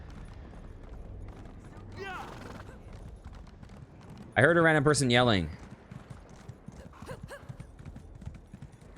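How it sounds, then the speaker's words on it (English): Horse hooves clip-clop steadily while riding in the video game Elder Scrolls Online, with a loud burst of voiced yelling midway and speech heard over the gameplay. "let's just get on our horse, run around until we hear some random people yelling"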